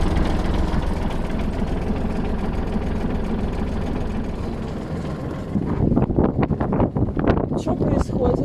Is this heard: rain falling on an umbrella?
no